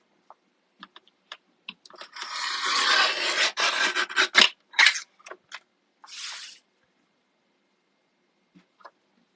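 Paper being trimmed for a scrapbook page, a run of close crisp cutting and rasping strokes in short bursts with scattered small clicks and taps before and after, no voices.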